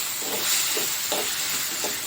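Tomatoes sautéing in a pan for a spicy chicken gravy give off a steady close sizzling hiss, with soft periodic scraping bursts from stirring rising every half second or so.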